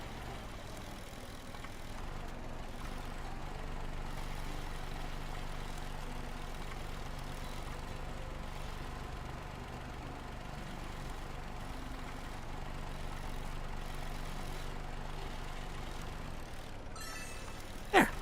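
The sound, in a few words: loud mower engine running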